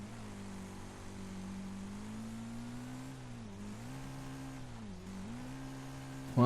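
Wreckfest racing game car engine holding a steady, loud drone with sustained tone, dipping and recovering in pitch around 3.5 and 5 seconds as the throttle is feathered through a corner, with no talking over it.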